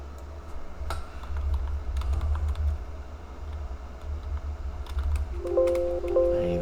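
Quiet, steady clatter of fingers typing on a computer keyboard, close by, with irregular key taps and a low background hum throughout and no talking.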